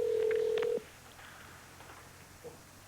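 A telephone line gives a single steady electronic tone lasting under a second, followed by faint clicks and quiet line hiss, heard alone and close.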